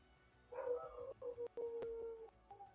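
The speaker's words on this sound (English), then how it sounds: "Why is my dog shouting?" An indoor dog barks and yelps in a quick run of short, fairly loud calls, with a few sharp clicks among them, against a quiet background.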